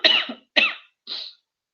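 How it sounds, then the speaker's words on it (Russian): Three quick coughs from a woman leading an online Tatar-language lesson, close and dry, spaced about half a second apart, with the last one softer, then a tiny catch of breath; no speech over them. "Извините, немножко кашляю."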